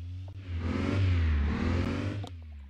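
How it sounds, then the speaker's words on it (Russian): A 2018 Škoda Karoq engine in the City Car Driving game revs up and holds a loud, steady drone before easing slightly, a continuous mechanical roar with no talking. "Давайте я немножко погазую."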